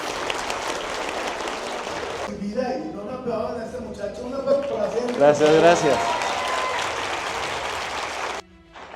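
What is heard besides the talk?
audience applause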